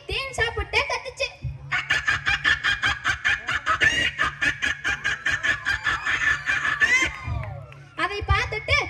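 A voice mimics a hen with a long run of quick, rhythmic clucks, steady and close, rising in pitch, with brief vocal sounds before and after.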